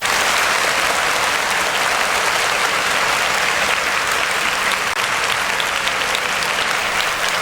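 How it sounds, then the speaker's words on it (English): Loud, continuous applause and clapping from a studio audience sending off a show guest, dense and sustained throughout with no breaks. "before you go, we have to give you a round of applause"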